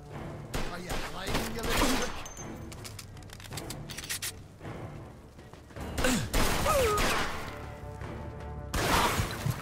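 Gunfire in the video game Mafia 2 Definitive Edition comes in sharp bursts of shots scattered across the span among crashes and clatter, with game sounds layered over them.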